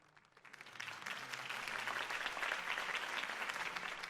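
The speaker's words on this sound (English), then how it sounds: "could have heard that applause" Steady applause from a large crowd at a campaign speech in an animated Batman episode, swelling quickly and holding at a full, dense level throughout.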